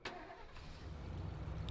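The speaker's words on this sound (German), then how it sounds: "Das Auto parke ich da ein bisschen näher am Gebäude." A car engine in the video game State of Decay cranks and catches after a short click, then settles into a low, rumbling idle that grows steadily, heard close and alone.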